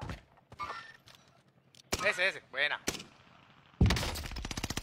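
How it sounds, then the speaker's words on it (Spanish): Gunfire in a video game, including sniper shots, sounds as sharp, loud reports, followed by a rapid automatic burst at the end, mixed with someone talking and other game effects. "está pegando tiros de sniper allá a 2 metros"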